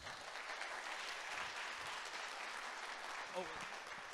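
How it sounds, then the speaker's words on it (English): Audience applause after a sponsor talk at a conference: steady, moderately faint clapping throughout, with a brief voice near the end. "Bishan, round of applause"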